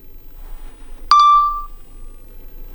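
A DJI Mini 2 drone gives a single sharp electronic beep that rings briefly and fades, standing out clearly against quiet background noise.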